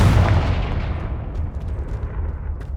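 Confringo fire blast spell in the Hogwarts Legacy video game, a loud roaring explosive burst that dies away slowly over a few seconds, with a few faint crackles near the end.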